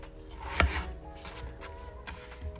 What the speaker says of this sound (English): We're going to cut it into small pieces.